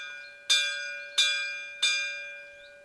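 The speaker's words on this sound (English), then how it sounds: "the way to let other people know that lunch is ready is by giving the bell a good ring" A fragile lunch bell rung by hand in a chateau garden gives three clear, evenly spaced strikes, each ringing on with a long, bright, sustained tone that fades between hits.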